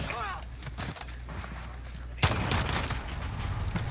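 Gunfire from a weapon in a Modern Warfare gun game match, dense bursts of shots with a sharp loud crack near the midpoint, mixed with game noise and talk.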